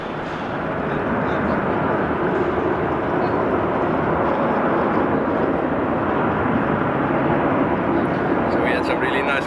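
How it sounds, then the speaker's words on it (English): An Airbus A380 passes at Amsterdam Schiphol Airport, its broad, steady jet roar filling the scene at constant loudness throughout, with some speech over the rumble. "So we had some really nice crossing there with the A380."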